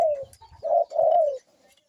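A dove coos in a few low, mellow phrases, the last one drawn out, close and clear against a quiet background.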